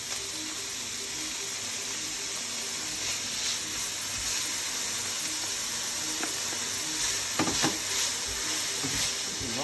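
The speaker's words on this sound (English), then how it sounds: "Put some oil. Put the spring onion in. Put bacon in." Spring onion and bacon frying in hot oil in a pan for egg fried rice: a continuous bright sizzle with a few spatula scrapes and pops, no speech.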